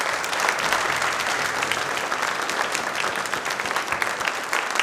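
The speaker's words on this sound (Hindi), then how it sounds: "तालियां प्लीज एक बार जोरदार हो जाए।" A loud audience breaks into sustained applause at a Dr. B. R. Ambedkar Jayanti Q&A programme, dense and continuous clapping throughout.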